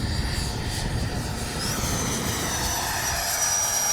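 A Freewing 90mm F-15 Defiance RC jet flies overhead with a continuous ducted-fan roar and a rising whine as it passes, heard outdoors at moderate distance with no talk.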